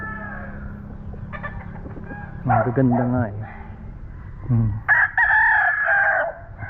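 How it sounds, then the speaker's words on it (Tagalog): Fighting roosters crow loudly at close range on a farm in the Philippines, a couple of calls overlapping, while a person talks briefly in between. "yung mga panglaban na mga manok dito"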